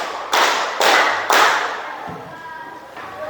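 A group of children claps together in a classroom clapping game. Three loud, sharp claps come in steady succession, followed by a fading room tail and a faint soft knock.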